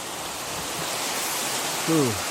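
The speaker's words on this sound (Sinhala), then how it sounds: "මේ තියෙන වතුර පාර තමයි මෙහෙම කඩාගෙන ගිහිල්ලා ඔතනින් අර අතනට ගිහිල්ලා" A stream on the Gawarawila plains rushes down toward a waterfall, giving a steady broadband roar of water throughout, with a brief voice sounding near the end.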